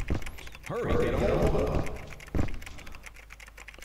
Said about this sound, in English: I actually wonder what he's typing.